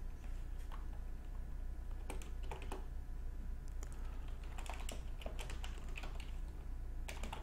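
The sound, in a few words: typing on a computer keyboard, writing code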